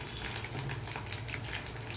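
Egg curry sizzles and fries in a pan, a steady close crackle and hiss with no talking.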